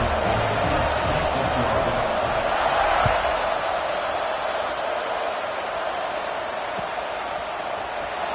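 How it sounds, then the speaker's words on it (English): Stadium crowd at a college football game buzzing after a score, a steady broad roar throughout with no clear cheers standing out, and a commentator talking over it. "this crowd is buzzing after that last score"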